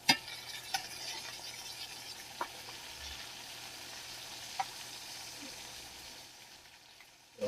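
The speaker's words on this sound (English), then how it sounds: "Got my bacon cooking" Bacon frying in a pan, a quiet, steady low hiss with a few isolated pops and ticks, faint and distant, ending in a louder clatter.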